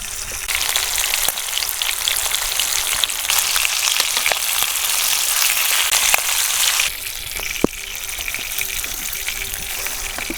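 Fish frying outdoors in bubbling, foaming oil, a dense continuous sizzle and crackle with scattered sharp pops, loud and close, holding steady throughout and dropping slightly in level near the end, with no talking.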